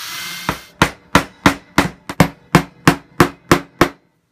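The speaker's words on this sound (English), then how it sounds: "I'm going to use another nail just to secure that side of the lid" A hammer taps small nails into the wooden lid of a cigar box guitar: about ten sharp, evenly spaced strikes, close and loud, with no talking.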